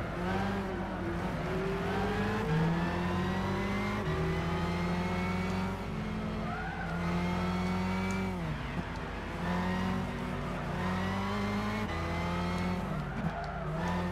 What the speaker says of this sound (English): this is so good to be able to hit like more than 160 miles an hour in a car